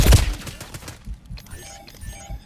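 Gunfire in the video game Black Ops 6: a loud dense burst of shots in the first second, then quieter scattered pops and faint background noise.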